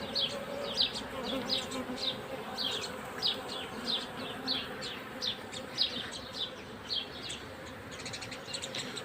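Honeybees from an opened beehive with laying workers buzz steadily and densely up close, with a faint rhythmic chirping in the background and no talking.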